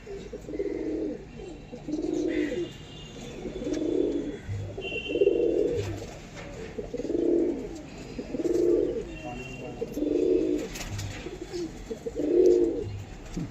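Long-feathered pigeons coo steadily in a repeating pattern of rolling low phrases roughly every second or two, close and continuous, with faint background noise and occasional soft knocks.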